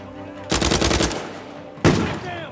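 A rapid automatic burst of gunfire in Uncharted 4: A Thief's End lasts about a second, then one more loud single shot follows after a brief pause.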